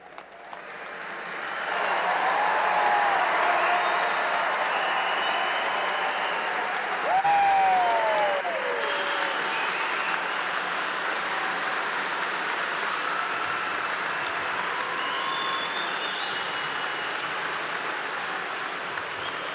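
A large graduation crowd at Clemson's Spring 2024 ceremony breaks into loud, sustained applause that fills the hall, with a few whistles rising above the steady clapping.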